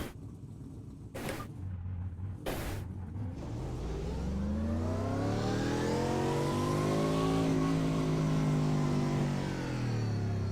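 A Mercedes AMG GT3 race car engine in iRacing at the Nürburgring revs up steadily, its note rising and sweeping through the gears as it accelerates loudly and continuously, preceded by a couple of brief sharp bursts.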